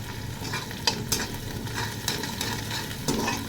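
Crushed garlic and green chilies sizzle steadily in a hot pan for cabbage bhaji, with a few sharp scraping strokes of a spoon stirring them, close and fairly loud, no voices.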